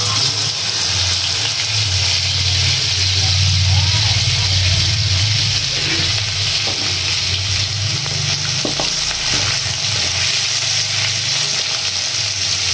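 Garlic fries over high heat in hot oil left from frying onions, giving a continuous, loud, close sizzle that runs without a break and with a low rumble beneath it.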